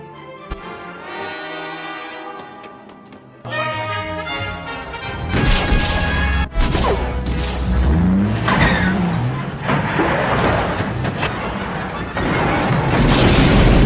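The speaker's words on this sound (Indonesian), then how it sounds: "tiba-tiba mobil tersebut meledak" A truck explodes in an Indiana Jones adventure film: a sudden, loud burst of rumbling, crashing noise cuts in after a few seconds of quieter sound and carries on heavy and dense to the end.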